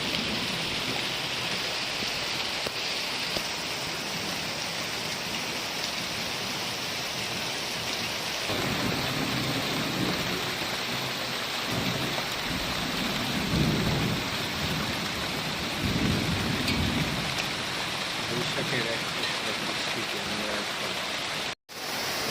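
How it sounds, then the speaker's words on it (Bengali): Heavy rain pours steadily for over twenty seconds near a river bridge, a dense hissing roar that swells louder midway, with deep rumbling underneath before a sudden brief cut near the end. "এবার আরো জোরে নামছে বৃষ্টি"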